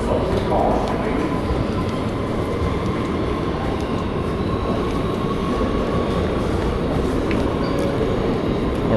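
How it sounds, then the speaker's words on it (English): A Brooklyn-bound A local on the New York City subway rumbles steadily throughout, a loud, continuous roar of wheels and car noise with a faint squeal, recorded from inside the moving train. "This is the Brooklyn-bound A local train."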